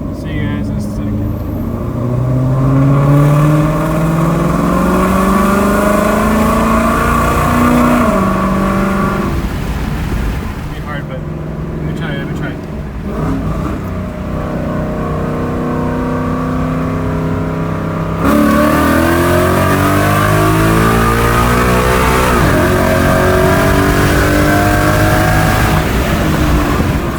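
A 2018 Ford Mustang automatic with full bolt-on modifications accelerates hard, its loud engine note climbing steadily and dropping at each automatic upshift, repeating through several gears from inside the car.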